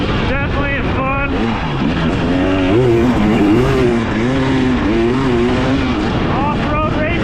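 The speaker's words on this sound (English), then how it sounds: "Off-road race bike." A 2023 Husqvarna TX300 off-road race bike engine revs close and loud, its pitch rising and falling steadily as it rides, with no pause in the noise.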